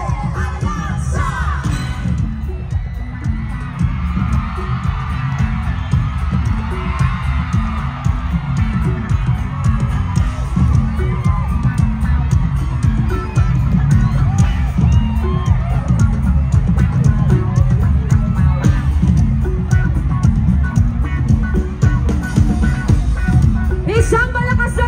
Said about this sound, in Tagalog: Isang malakas na hiyawan muli para kay Senador Bong Revilla!